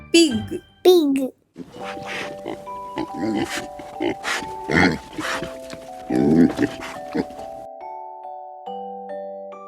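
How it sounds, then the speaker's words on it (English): A couple of pig grunts sound at the start, then someone talks over a soft, tinkling tune. "Pig. Pig."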